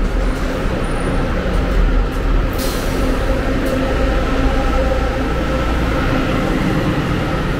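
A Viação 1001 coach rolls through the Rodoviária Novo Rio bus station in Rio de Janeiro, a steady, loud engine and road rumble that holds close for the whole stretch with a brief hiss partway through.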